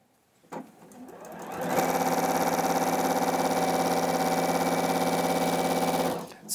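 Juki HZL-NX7 sewing machine running a straight stitch through fabric, a close, steady rapid mechanical whir that ramps up, holds evenly for several seconds, then stops.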